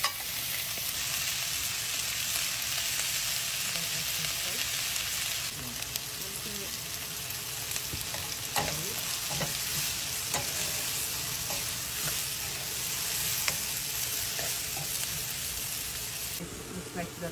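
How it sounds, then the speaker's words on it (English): Spices tempering for dhal curry in a hot pan, a dense hiss and crackle of sizzling oil with occasional stirring scrapes, steady and close, with some speech faintly under it. "Just temper it until golden brown."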